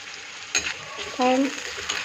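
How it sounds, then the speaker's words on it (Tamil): Onions sizzle steadily in a hot frying pan while being stirred, with a scrape of the spatula near the start and a brief squeaky scraping sound midway, all close and with no one talking. "வெங்காயமும் ஓரளவு வதங்கிடுச்சு"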